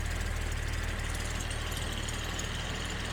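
A 1970s Jaguar car engine with an exhaust leak idles steadily with a low, rough rumble and a faint ticking puff, close by, with no voices.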